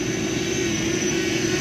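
A quadcopter drone running Open.HD flies with a loud, steady high-pitched propeller whine and a constant motor drone, close and alone.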